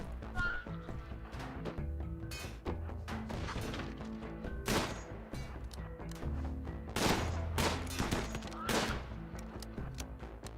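Colonists' gunfire in a video game: a rapid, uneven string of sharp shots and cracks, some clustered into bursts, loud and close over a busy, continuous backdrop of game sound.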